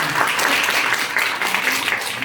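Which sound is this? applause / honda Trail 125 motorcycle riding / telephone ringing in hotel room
applause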